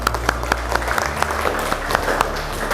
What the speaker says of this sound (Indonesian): Boleh sekali lagi tepuk tangan buat kita semua.